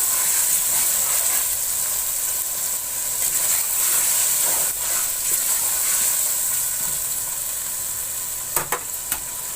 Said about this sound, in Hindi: अब टमाटरों को मैं थोड़ी देर भून लूंगी।